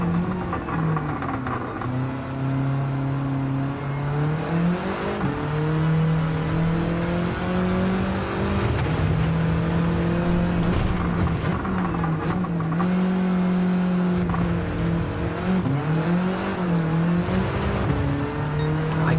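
Race car engine from Gran Turismo 7 lapping a track, a loud continuous tone that rises and falls in pitch through upshifts and corners, with brief dips and repeated revving climbs, heard alone without talk.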